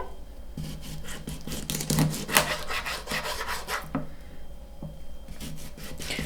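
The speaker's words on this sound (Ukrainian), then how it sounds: "Е, рибу червону, я маю ось такі куски риби, буду я їх різати такими стейками" A knife slices through pieces of red fish, cutting them into steaks for pan frying; repeated rasping, rubbing strokes come close and moderately loud, with brief pauses between cuts and no talking.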